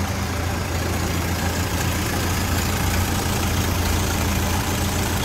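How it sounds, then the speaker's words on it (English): A 1930 Ford Model A pickup engine idles smoothly at close range, a steady, even rumble that holds without pause. "Again, nice smooth running engine."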